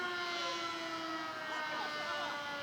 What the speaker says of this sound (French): les sirènes de la GEST aussi résonnent